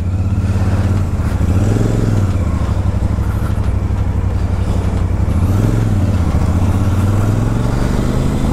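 A Royal Enfield Super Meteor 650 motorcycle engine runs steadily and loud at close range, its pitch rising and falling as it shifts through gears while riding.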